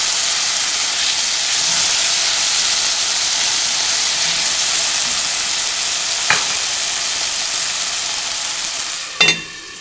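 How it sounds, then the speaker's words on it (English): Diced tomatoes frying in ginger garlic paste in an Indian dal makhani pan give a loud, steady sizzle and hiss close by, with a couple of brief stirring scrapes near the end and no voices. "the ginger garlic paste is frying up for a little bit"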